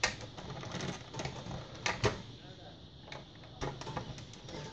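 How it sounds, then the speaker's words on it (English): A small screwdriver works screws out of a Nerf Rampage blaster shell, giving close, irregular plastic clicks and light scrapes over a quiet background. "now a small screwdriver to do the rest."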